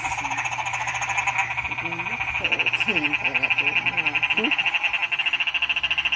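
A frog croaks in rapid, rhythmic pulsing calls that repeat steadily and grow more insistent, while voices talk briefly in the background.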